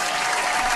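A brief burst of recorded applause played as a sound effect on a radio talk show, dense even clapping lasting under a second.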